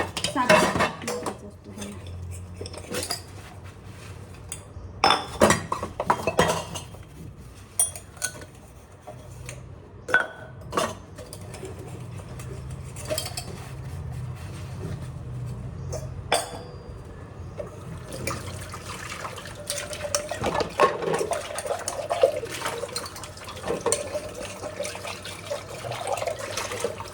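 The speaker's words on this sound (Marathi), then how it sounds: "पटापटा घासून घेते आता भांडी" Dishes, pots, pans and cutlery being scrubbed and washed by hand after a meal with sugar residue, with steady clinking, scraping and running-water sounds throughout, close and moderately loud with no talk.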